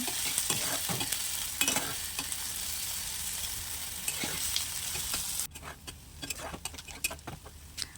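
Onions fry in a pan until browned, a close, continuous sizzle broken by repeated stirring scrapes and small ticks; no speech.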